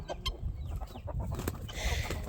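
Chickens in a large flock cluck and chatter at bedtime, close by, in overlapping short calls and squawks with no talk.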